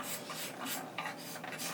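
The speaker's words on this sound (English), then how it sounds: "he scrapes the sides of the fingerboard to further blend the nut in with the other ebony wood." Steady rasping scrape on the sides of an ebony violin fingerboard, a continuous rough rubbing with short strokes, close and fairly quiet, no voices.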